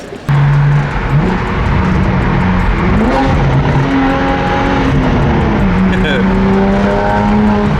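A loud twin-turbo Audi R8 engine drones and revs steadily close by, the pitch climbing and shifting through gear changes, with a voice speaking briefly over it.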